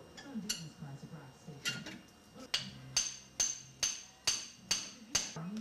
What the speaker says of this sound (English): A carpenter hammer.